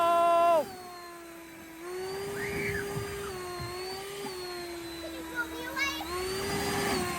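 A Ryobi 40V brushless 730 CFM electric leaf blower runs on turbo, a loud steady high-pitched whine that dips briefly as it changes speed, with people talking nearby.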